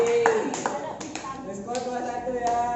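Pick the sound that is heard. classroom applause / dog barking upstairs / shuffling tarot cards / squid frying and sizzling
classroom applause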